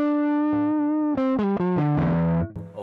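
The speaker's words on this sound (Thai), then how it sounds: "เสียงแตกของจำลอง M2 Lock นะครับ" Electric guitar through a Mooer Two Stones pedal in Two Rock-style distortion mode: a sustained held note followed by a run of distorted notes and chords, loud and close, with no talking.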